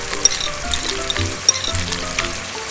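Onions, garlic and chili frying in oil in a pan, a continuous close sizzle with faint crackles and occasional stirring scrapes, no voices.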